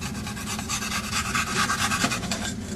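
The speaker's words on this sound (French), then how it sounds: "Pour l'X-Acto, on utilise le mode de va-et-vient sans mettre de pression sur la lame." X-Acto knife drawn back and forth through a styrofoam tube on cardboard, a continuous close scratchy rasping with uneven strokes and no voices.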